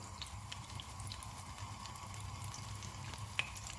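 Garlic, chili and parsley stems sizzle steadily in oil in a pan, a soft even frying hiss with faint crackles and no talk.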